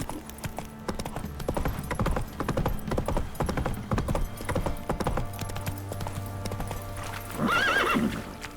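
Roach, the horse in The Witcher 3, gallops with rapid, rhythmic hoof clops, close and steady, then gives a loud whinny near the end.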